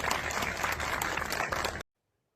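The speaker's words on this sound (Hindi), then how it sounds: "जोरदार तालियों से एक बार फिर से इनका अभिनंदन करें" Audience applause at a public address, a dense, loud wash of clapping that holds steady for about two seconds and then cuts off abruptly into silence.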